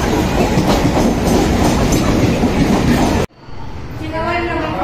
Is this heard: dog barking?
no